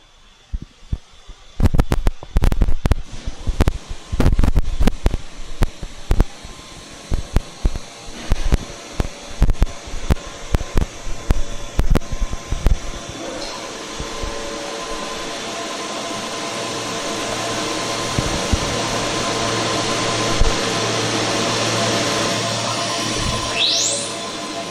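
A Holz-Her Dynestic CNC router machines a nest of parts, starting with a flurry of sharp clacks and knocks that settle into a steady, loud whirring spindle and cutting roar.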